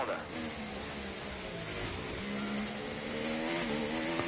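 A Mercedes Formula 1 car in a video game accelerates out of the pit stop, its engine note sweeping upward in a revving whine, with voices talking faintly over the game sound.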